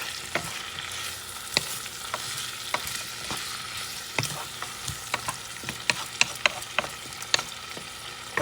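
Bison meat sauce sizzles steadily in a pan while a utensil stirs it, with scattered scraping clicks and taps over the constant frying hiss and no talk.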